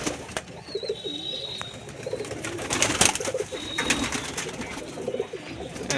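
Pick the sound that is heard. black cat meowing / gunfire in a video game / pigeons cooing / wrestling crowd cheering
pigeons cooing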